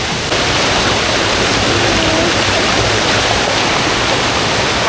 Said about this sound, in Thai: น้ำตกนะครับใหญ่มากครับผม